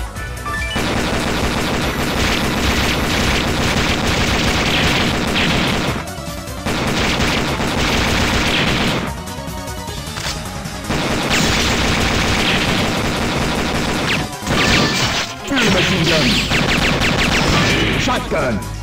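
Rapid, dense machine gun fire rattles almost without pause in Metal Slug 6, loud and close, broken by a few brief gaps and mixed with booming explosions.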